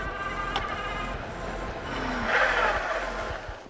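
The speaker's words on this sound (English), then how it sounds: "Let's do a braking check." A Ride1Up Turris ST e-bike braking hard to a quick stop outdoors, a brief rising brake squeal and tire scrub heard alone over steady background noise.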